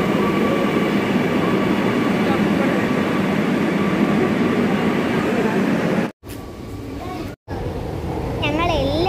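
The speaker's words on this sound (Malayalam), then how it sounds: "ഞങ്ങൾ എല്ലാവരും മെട്രോയിൽ കയറിയിരുന്നു." Steady loud rumble and rushing roar inside a moving metro train, continuous throughout with two brief dropouts near the end and faint voices in the car.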